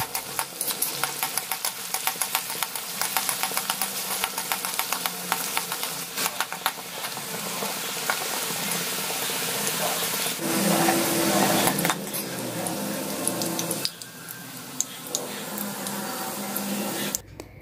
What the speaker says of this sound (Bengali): কুচনো পেঁয়াজ আমি এই তেলের মধ্যে লাল লাল করে ভেজে নেব